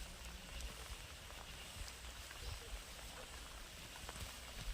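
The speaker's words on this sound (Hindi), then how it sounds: "और अभी ना बारिश लग पड़ी है होने।" Rain falling steadily on a village kitchen garden, a dense continuous hiss and patter close by with no breaks.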